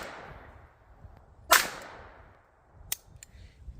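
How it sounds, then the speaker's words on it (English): Shots from a Beretta 21A pistol: one sharp loud crack followed by a fainter second report and a brief tail, in a short quiet stretch with no talk. "We're going to do 5 rounds through the Beretta first."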